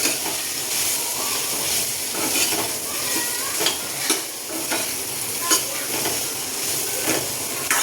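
A pan of spine gourd curry with Kashmiri red chili powder being stirred: steady sizzling and hiss with repeated scraping strokes of a spoon, close and fairly loud, no talking.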